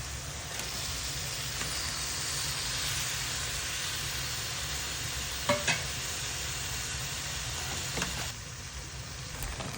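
Tomato going into a pan of sizzling spices and potato while cooking a rohu fish curry; a steady frying hiss runs throughout with a couple of brief stirring clatters near the middle.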